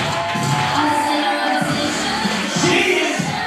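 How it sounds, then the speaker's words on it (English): Wrestling show crowd at RCW Mean Street Mayhem roaring and cheering continuously, a loud, dense wash of voices with whoops swelling in waves throughout. "listen to this crowd"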